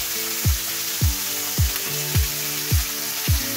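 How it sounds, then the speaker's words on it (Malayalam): Kashmiri chicken tikka frying in oil on a medium flame gives a steady broad sizzle, with soft low thumps recurring about every half second over the continuous hiss. "ഇനി നമുക്ക് ഇത് കവർ ചെയ്ത് 5 മിനിറ്റ് മീഡിയം ഫ്ലെയിമിൽ നമുക്ക് ഫ്രൈ ചെയ്യാം"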